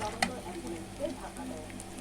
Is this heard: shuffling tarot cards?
no